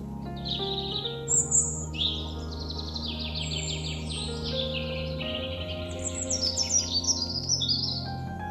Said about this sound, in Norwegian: Jeg står her og lytter til vårfuglene.